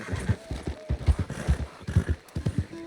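A horse in Red Dead Redemption 2 whinnies over steady clip-clopping hooves, close and fairly loud, with the hoofbeats falling in an even walking rhythm through the whole stretch.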